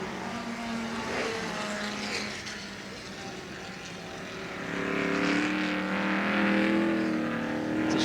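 A Mustang touring car races on a wet Warwick Farm circuit in 1970. Its engine swells and fades at moderate distance as it brakes early and powers through the sweepers.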